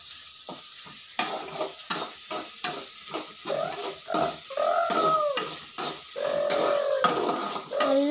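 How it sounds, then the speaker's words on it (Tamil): Onions sauté in a pan for a tapioca (maravalli kilangu) stir-fry, steady sizzling broken by a regular rhythm of spatula stirring strokes and scrapes, with a few squeaky metal scrapes against the pan toward the end. "நல்லா வதங்கணும்."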